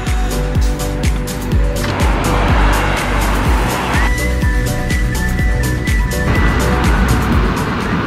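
A Toyota Prius driving on a road, heard as a steady rolling tire and road roar with a constant engine drone throughout, fairly loud and close, with a faint tonal whine rising partway through.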